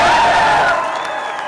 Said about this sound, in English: So there obviously were a lot of people cheering for that